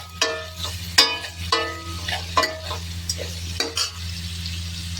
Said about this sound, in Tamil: இப்போ இதை நல்லா வதக்கிக்கலாங்க